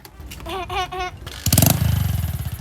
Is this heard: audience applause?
no